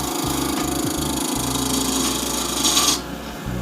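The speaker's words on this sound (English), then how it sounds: "I start to slowly roll the spindle gouge around, causing me to get that nice rounded hollow" Spindle gouge cutting resin-cast burl on a wood lathe, a steady close scraping hiss over the spinning lathe's low hum, with a brief brighter shaving burst near the end.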